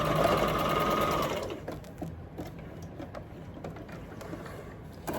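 A sewing machine back-stitching through quilted fabric, running in a fast continuous whir for about a second and a half, then stopping to quiet clicks and a short restart at the end.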